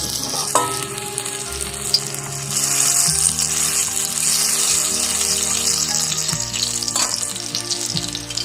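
Fritters made from flower paste fry in hot oil, a dense bubbling sizzle that grows louder as more pieces drop in, with occasional clinks and shifts of the pan.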